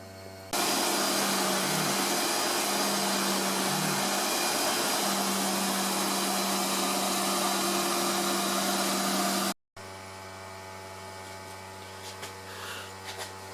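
CNC router cutting with a 1/4 inch compression bit while making a socket set organizer, a loud, steady roaring whine that stops abruptly, leaving a quieter motor hum.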